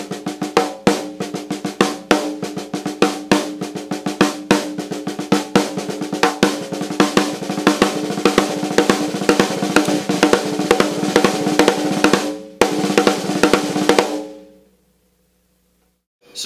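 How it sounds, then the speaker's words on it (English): A drum kit plays a six stroke roll fill over and over, with dense, loud strokes in a driving repeated pattern that stops abruptly and leaves a brief ringing tail. "So it's going to sound like this if you do it in repetition."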